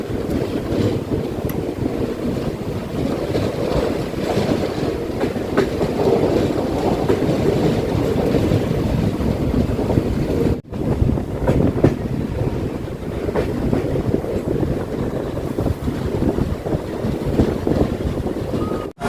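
The Parasuram Express rumbles along a curve near Kollam, a steady loud roar of wheels and wind battering the microphone from on board, continuous throughout with a brief cut midway.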